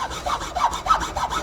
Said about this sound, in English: And this hacksaw isn't very sharp.